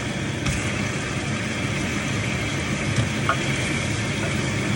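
Chicken sizzles and crackles steadily in a hot pan, a constant hiss of frying with no voices.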